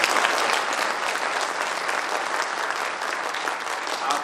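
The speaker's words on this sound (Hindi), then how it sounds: "मेरे बार ताली तो बजाइए।" An audience at a team meeting bursts into dense, sustained clapping, a loud continuous roar of hands with no talk over it.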